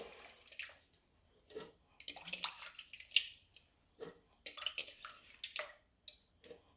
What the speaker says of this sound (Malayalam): ഇനി നമുക്ക് മുന്തിരി ജ്യൂസറിലേക്ക് ഇട്ട് കൊടുക്കാം.